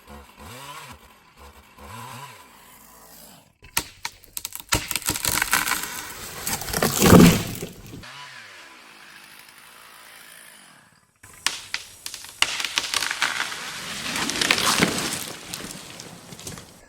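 A chainsaw cuts the hinge of an ash tree being felled, running in loud bursts with gaps between cuts, along with crunching, splintering wood. There is no talk.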